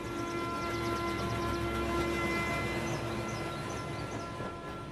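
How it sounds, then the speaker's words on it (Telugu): A train stands at a station, giving off a steady, loud rumble and hum with faint high squeals, continuous and without pause. "ట్రైన్ అర్ధ గంట వరకు ఇన్నే ఉంటది"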